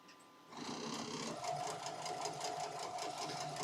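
Sewing machine stitching Christmas table runner blocks together, starting after a brief quiet moment and then running steadily and evenly at close range, with no talking.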